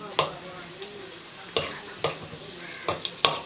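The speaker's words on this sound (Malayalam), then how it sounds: "നമുക്കിതെല്ലാം ബലൂൺ പോലെ ആവുന്നവരെ വറുത്തെടുക്കാം" Raisins fry in ghee for semiya payasam, a soft continuous sizzle broken by several sharp pops and crackles spread across the stretch, close by and with no talk.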